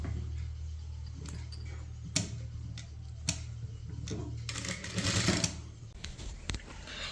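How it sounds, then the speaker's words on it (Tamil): A sewing machine stitches small pleats into a kurti top, its steady mechanical whirring running continuously close up with a few sharper clicks of handling, and nobody talking. "இந்த மாதிரி குட்டி குட்டியாக ப்ளீட் வச்சு தைச்சிட்டு வாங்க"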